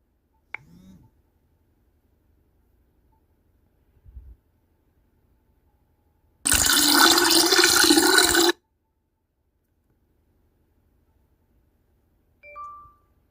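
Peeing sound effect: a loud two-second burst of splashing, hissing liquid stands alone between faint short noises and long stretches of near silence.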